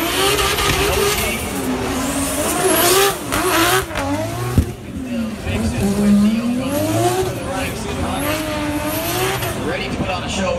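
A 700 hp Nissan Silvia S15 fitted with a 2JZ engine drifts at a motor festival at Punchestown, with loud revving and rising, falling engine pitch, squealing tyres, and a commentator talking over the noise.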